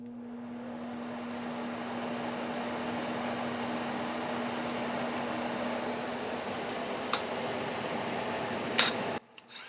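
A wood lathe spins while sanding, with a box fan dust filter running behind it, making a steady broadband whir and rushing hum throughout, a couple of faint clicks near the end before it cuts off abruptly.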